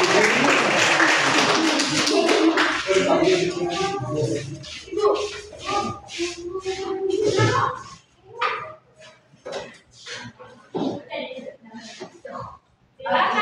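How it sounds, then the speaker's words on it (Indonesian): A group in a classroom or hall applauding, a burst of scattered clapping mixed with shuffling and chatter that thins out into intermittent voices and sparse claps. "Beri tepuk tangan untuk kelompok"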